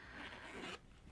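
A zipper on the back pocket of a leather planner is pulled open in one quick continuous rasp lasting under a second, quiet and close, with no talking.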